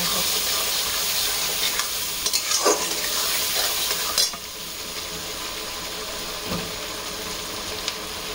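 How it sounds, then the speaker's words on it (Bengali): Garlic sizzles in a frying pan as a spoon or spatula stirs it, a steady frying hiss broken by scraping strokes and a few clinks, close by with no talking. "ভালো করে নাড়াবো।"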